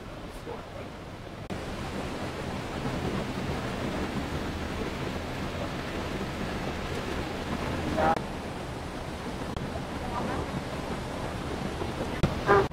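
The waterfall at the Grand Canyon of the Yellowstone roars as a steady, broadband rushing wash heard from a viewing platform, continuous and moderately loud, with a few faint scattered sounds from people nearby.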